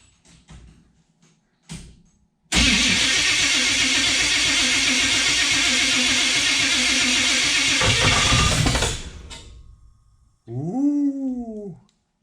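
A 1935 Chevrolet Standard sedan engine cranks briefly, then fires and runs loud and steady for about six seconds before cutting out, followed by a few faint knocks.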